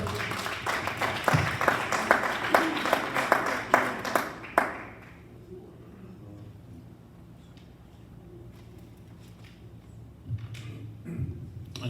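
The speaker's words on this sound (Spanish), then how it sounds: "Dele un aplauso al Señor, no esté triste." Church congregation applauding together, a dense run of claps with louder peaks for about four and a half seconds, then stopping abruptly and leaving quiet room tone with faint murmurs.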